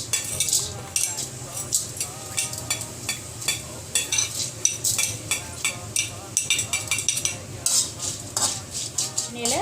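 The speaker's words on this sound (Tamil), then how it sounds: "ஒரு கடாயை அடுப்பில் வச்சு இந்த மிளகு, சீரகம், சோம்பு, கசகசாவை நம்ம இந்த எண்ணெயில் வறுத்துக்கணுங்க" Pepper, cumin, fennel and poppy seeds roasting in oil in a kadai, stirred steadily with a metal spatula that scrapes and clinks in a quick, busy rhythm over a low hiss.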